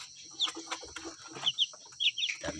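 Native village chicks (ayam kampung), healthy and raised without vaccines, cheeping in short high chirps scattered through the clip, several close calls in quick bursts over a faint low farmyard background.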